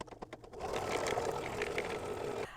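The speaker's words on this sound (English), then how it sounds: "I'm going to stitch this color stop number 3" An embroidery machine stitches an in-the-hoop snap coin purse, giving a steady, fast mechanical whirring hum after a few short taps at the start. It runs close and alone, with no talk.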